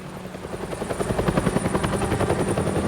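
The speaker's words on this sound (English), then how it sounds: "You can hear helicopters?" A video game helicopter's rotor thumps in a steady rapid rhythm, loud and continuous with a buzzing whine above it.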